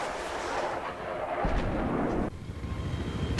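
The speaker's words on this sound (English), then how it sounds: "I'm the one shooting at the hill now." A tank cannon fires in Battlefield 3, giving deep booming blasts and rumbling low-end roar with a sharp shift midway, loud and close amid battlefield noise.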